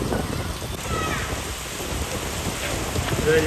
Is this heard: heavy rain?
yes